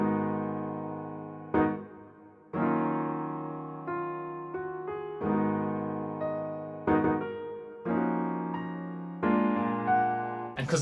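Piano breakdown section in a produced beat: sparse sustained piano chords struck every second or so, each decaying gently before the next, clear and solo without drums or talk.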